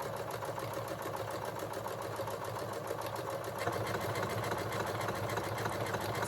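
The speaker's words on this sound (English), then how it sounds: "and then just start the buttonhole." A sewing machine stitches a buttonhole on skirt fabric, running with a fast, steady mechanical whir and rhythmic needle clatter that stays close and continuous, growing slightly louder partway through.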